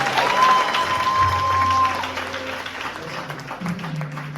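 A church congregation applauds and acclaims the Lord in a steady wash of clapping, with sustained musical tones and a voice rising over the crowd.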